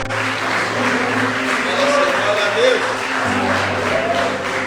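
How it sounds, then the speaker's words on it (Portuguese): A church congregation applauds, a soft continuous clatter of clapping under a preacher's voice and lingering background sound. "Dá um aplauso ao Senhor."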